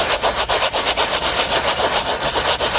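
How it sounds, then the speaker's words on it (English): A brush scrubs back and forth over spots on car seat upholstery in quick, even strokes, a steady rhythmic rubbing heard close and clear with no talk. "I'm just agitating the dirt so it'll come up"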